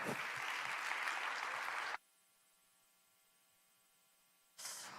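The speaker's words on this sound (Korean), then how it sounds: "큰 박수로 환영해 주시기 바랍니다" A church congregation applauds to welcome a woman evangelist: loud, dense clapping for about two seconds, then an abrupt cut to near silence with a faint hum, then clapping briefly returns at the end.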